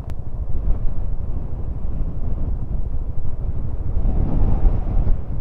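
Strong gusts buffet the microphone on a mountain road, a continuous loud low rumble that swells and roars toward the end with no voices.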